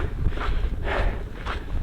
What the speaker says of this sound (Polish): Cały czas nieustający wiatr, który towarzyszy pustyni